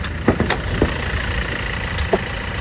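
A 2.4-litre diesel engine of a 2019 Toyota Revo pickup idles steadily at close range, a low rumbling chug with a few faint clicks on top.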